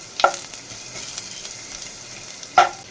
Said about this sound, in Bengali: তেল দিলাম বেশি করে ভাজা বাটার জন্য, একটা শুকনো লঙ্কা, অল্প একটু কালো জিরে